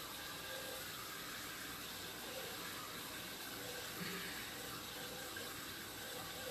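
Water trickling and escaping through an offset joint in an underground sewer pipe, a faint, steady hissing flow that echoes softly inside the pipe, continuous and without voices.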